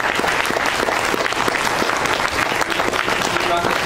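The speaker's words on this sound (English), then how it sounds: "We have a big round of applause." Audience applause at an awards ceremony, a dense sustained clapping from a sizable crowd, loud and continuous with occasional voices mixed in.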